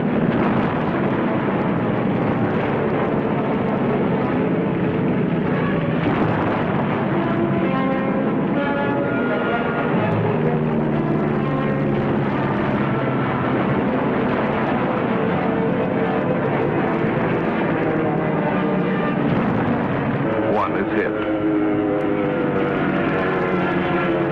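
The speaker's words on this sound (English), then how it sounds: "Our planes bomb and strafe." Military aircraft bombing and strafing: loud, continuous roar of aircraft engines over heavy rumbling, a dense wall of wartime noise with droning tones and no distinct pauses.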